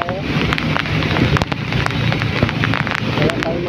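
Heavy rain pours down on a trip from San Juan to Pasig, a loud, dense, steady hiss with scattered splashes, and a voice talks faintly in the background.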